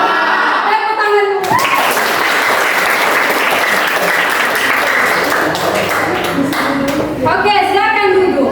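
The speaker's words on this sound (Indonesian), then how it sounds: "Tepuk tangan." A classroom of students breaks into loud, sustained applause, many hands clapping in a dense continuous patter for several seconds, with a few voices at the start and end.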